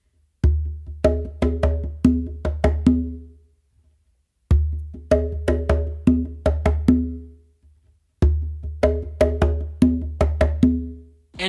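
A wooden bingba bongo plays the second half of a bomba/funk pattern three times, each a quick run of sharp hits with resonant low tones and short pauses between phrases.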